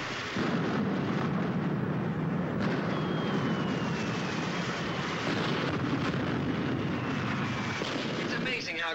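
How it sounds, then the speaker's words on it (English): Artillery battalion firing in a wartime setting, a dense continuous roar and rumble of guns that stays loud and steady throughout, with a faint aircraft-like drone above it. "Baker's firing. Battalion is firing."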